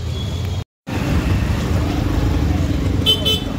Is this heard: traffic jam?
yes